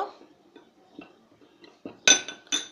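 A spoon clinks and scrapes against a bowl while mixing ground cumin, chili and other dry spices for a homemade chaat masala blend, with soft scraping early and several louder, sharper clinks near the end.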